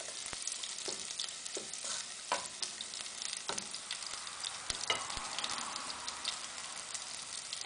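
Garlic sizzles in oil at the start of a Thai stir-fried crab curry with curry powder, a soft continuous crackle broken by sharp ticks and scrapes of a stirring utensil.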